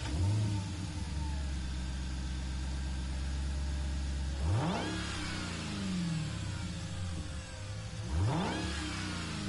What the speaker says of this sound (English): You can hear that supercharger, that whine.